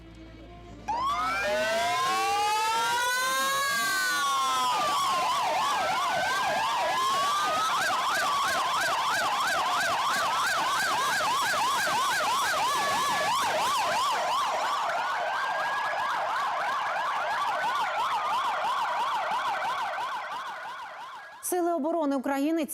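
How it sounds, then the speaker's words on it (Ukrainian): Several fire engine sirens wail loudly at once at a soldiers' funeral, their overlapping rising and falling tones continuing for a long stretch before cutting off. "Останню путь бійці відправляли під звуки сирен пожежних машин."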